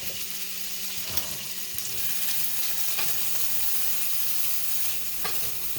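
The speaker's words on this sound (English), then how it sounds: "We're going to add our onions." Onions going into minced garlic sizzling in a pan for smothered beef round steak, a loud continuous frying hiss with a few light stirring knocks and no talking.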